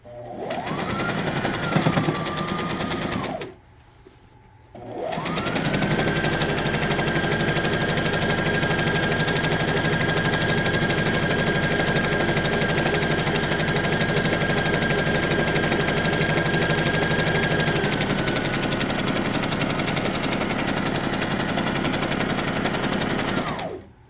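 A sewing machine stitches a trouser seam along a marked line, running fast with a steady whirring, buzzing drone. A short run comes first, then a brief pause, then one long unbroken stretch of stitching, with no talk.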